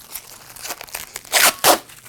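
Protective plastic film is peeled off the top of a Changhong 50-inch LED HDTV stand, a soft crinkly rustle that ends in two louder, harsh tearing rips close by, with no voices.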